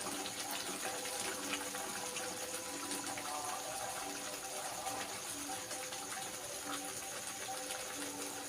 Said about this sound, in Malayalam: അപ്പം ഇനി ശർക്കര നീര് കുറച്ച് ഒഴിച്ചു കൊടുക്കാം കേട്ടോ